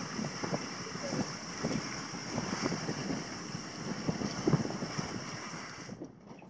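A sailboat moves through open water in good wind, with a steady rush of wind and water hiss, irregular sloshing and splashing against the hull, and a faint voice in the background, ending abruptly.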